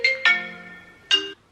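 A telephone ringtone sounds nearby, with three bright melodic tones of tuned notes, the middle one held longest before fading, and no talking over it.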